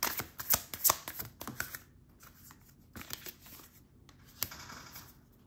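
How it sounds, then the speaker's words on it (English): Tarot cards are shuffled by hand before a card is drawn: several quick riffling bursts close up, then softer sliding and tapping, with one sharp snap, quiet and with no talk. "I'll pull one more card before I go."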